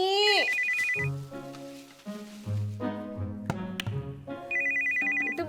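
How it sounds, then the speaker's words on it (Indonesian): A mobile phone ringtone plays a bright electronic melody of repeating, stepped notes that opens with a quick rising chirp, moderately loud and steady throughout. "handphonenya bunyi tuh"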